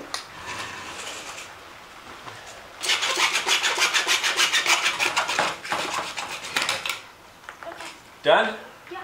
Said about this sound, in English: I told my daughter I would help her cut some PVC piping